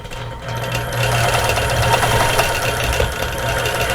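A sewing machine quilts feathers on a China Plate quilt, its motor running in a steady, continuous hum with fast stitching rhythm, close and fairly loud, starting a touch softer before settling in.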